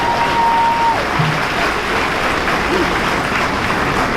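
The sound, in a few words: audience applause at a gala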